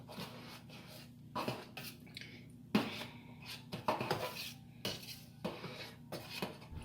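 A spoon stirring gumbo in a big pot and scraping the bottom, producing repeated metallic clinks and scrapes in an uneven rhythm, close up and fairly quiet with no speech.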